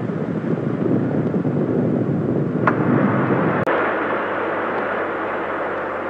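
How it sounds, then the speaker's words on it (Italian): Steady broadband rushing roar of the International Space Station's reboost engines firing, heard from inside the station, continuous and even throughout with a sharp brief click partway through. "Vi faccio vedere cosa succede dentro la stazione spaziale quando c'è uno di questi reboost"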